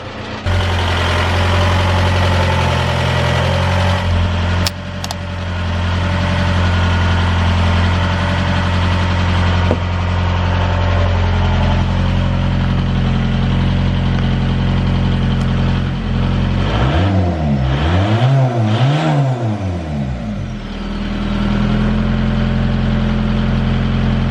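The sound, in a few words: turbo diesel car engine running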